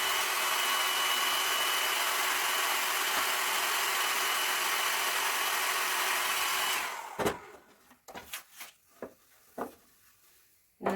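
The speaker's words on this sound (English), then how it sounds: "Just use your hair dryer, and all you need to do is just heat it up for a few seconds" A hair dryer blows with a constant loud rush for several seconds, then cuts out, followed by a few light taps and rustles.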